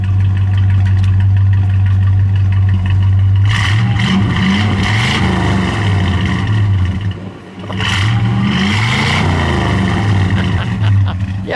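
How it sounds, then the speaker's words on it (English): A 1956 Chevrolet Bel Air with a 265 V8 and dual Thrush turbo mufflers, loud and close, idling deeply and then revving twice, each rev swelling and falling back to a steady rumble. "give it a little rev, would you please?"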